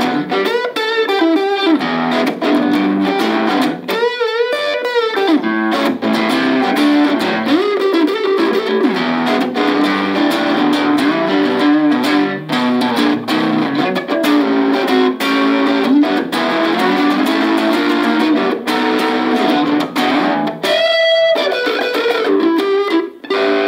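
Electric guitar played through a very small amp with a bright, crunchy distorted tone and little reverb, continuous chords and riffs lasting over twenty seconds without talking.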